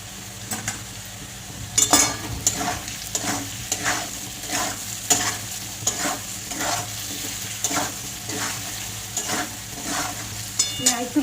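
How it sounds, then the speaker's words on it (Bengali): Potatoes frying in a pan with salt and turmeric, stirred now and then, giving a steady close sizzle with a scrape or stir at a regular pace. "একটু লাল লাল করে ভেজে নেব।"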